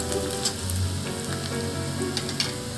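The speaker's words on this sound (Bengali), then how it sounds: "পেঁয়াজটাকে দিয়ে দেবো আমি রসুন কুচি আর বাকি কাঁচা লঙ্কা কুচি দেবো" Onion, chopped garlic and green chillies frying in hot oil for a river fish chorchori, a dense continuous close sizzle with faint crackles throughout.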